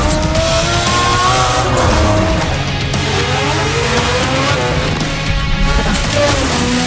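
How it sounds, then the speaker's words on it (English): A Mazda FC RX-7 race car with a 20B turbo engine and wide body kit in the Need for Speed: Shift video game, engine roaring loud and continuous with tires squealing and skidding through corners. "My Works car is a Mazda FC RX-7 20B turbo-powered beast."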